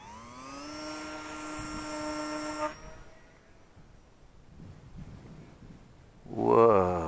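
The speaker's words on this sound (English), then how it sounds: "Remaiden of the Eachine Mini P51D Mustang, now brushless." The brushless motor of an Eachine Mini P51D Mustang RC warbird whines at a steady high pitch, then cuts off, leaving quiet outdoor air before a loud rising buzz returns near the end.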